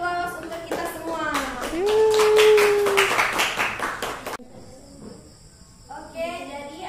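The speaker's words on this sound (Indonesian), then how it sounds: "Beri aplaus untuk kita semua" A classroom group claps in quick repeated beats for a few seconds, overlapping a teacher's and pupils' voices, then it stops abruptly and talk resumes.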